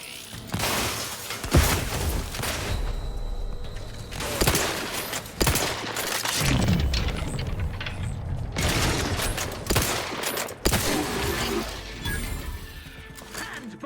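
Grenade blasts and gunfire from a combat fight in the video game Outer Worlds 2, with loud broadband bursts near 1.5, 4.5, 5.5 and 10.5 seconds over a continuous dense clatter of shots and mechanical clanks, close and loud throughout.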